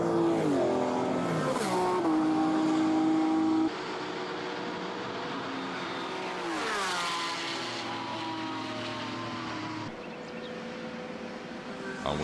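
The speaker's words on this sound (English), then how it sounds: "Field is now coming down for the first time, and hear that beautiful sound of the historic cars." Historic race cars at the Imola circuit, engines revving hard with rising and falling pitch as the field passes, loud and close, gearshifts breaking the whine into steps.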